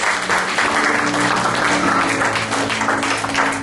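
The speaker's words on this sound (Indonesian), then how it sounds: "Bolehkah kita berikan tepuk tangan yang luar biasa untuk kebaikan Yesus?" A church congregation at Abbalove gives loud, close applause, a brief burst of many hands clapping with some faint background voices mixed in.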